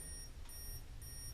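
A faint continuous glucose monitor alarm beeping in short repeated bursts, quiet and somewhat distant over low background rumble.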